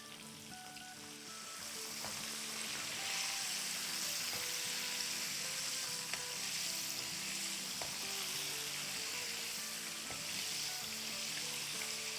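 Chicken pieces frying in hot oil, a dense, steady sizzle and crackle that grows louder after the second batch goes in, with faint scattered clinks and no talk.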